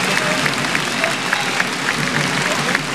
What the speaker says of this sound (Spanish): señor Ollanta Humala Tasso, a quien recibimos con muy fuertes palmas.